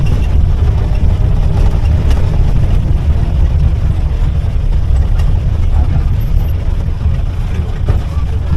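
A jeep engine drives along a rough off-road track on the way to Keezhathoor waterfalls, giving a loud, steady low rumble that continues without a break, with road noise throughout.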